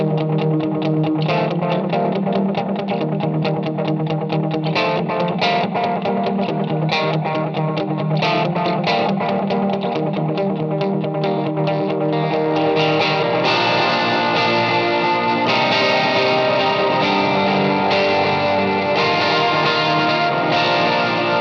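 Electric guitar played through a Strymon Brigadier analog delay pedal, mix past noon with raised repeats plus light reverb and overdrive, giving dense, loud chords whose echoes smear together and swell fuller in the second half.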